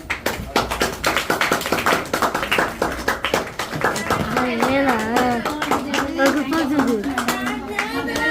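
Children and an audience clapping at a school program, dense rapid applause close by, with a voice singing or calling over it in the second half.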